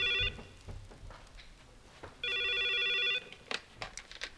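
A telephone in a 1987 Korean TV drama rings in two distinct electronic bursts separated by a short pause, clear and fairly close, with faint room noise between the rings.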